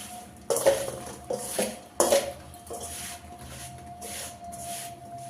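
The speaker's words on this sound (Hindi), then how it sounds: "मसाले को हम मिक्स करते हैं आंवले के साथ।" Spices stirred into Indian gooseberries (amla) for pickle, heard as a few scraping, clinking spoon strokes against a metal bowl, close and fairly loud, in uneven bursts without speech.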